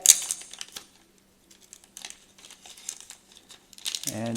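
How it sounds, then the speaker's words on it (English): Crinkling of a small cellophane bag being opened to get at a collectible lighter, close and quiet with scattered rustles and crackles, ending in a brief burst of louder activity. "Let's open the little cellophane bag"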